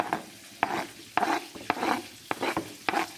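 A spoon scrapes and stirs through a bowl of curd salad with chopped carrot and coriander, giving sharp clinks roughly every half second with soft mushy mixing between them, close and fairly quiet.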